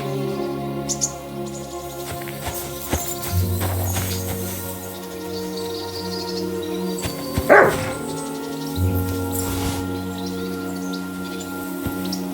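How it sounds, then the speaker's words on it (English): A dog barks a few times in the video game Kingdom Come: Deliverance II, against a steady background of ambient music and hum, with a louder bark burst near the middle. "Barking."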